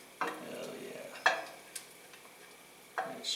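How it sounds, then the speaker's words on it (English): Bacon sizzles softly in a pan during home cooking, with a steady low frying hiss and a few sharp stirring or utensil clicks scattered over it. "Getting that sizzle going again."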